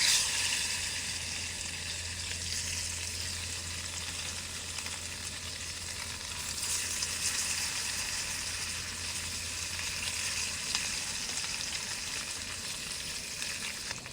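Spam fried with Fly-By Jing chili sauce over a camp cooking setup, giving a dense, even sizzle that holds steady and fairly loud throughout, with no talking.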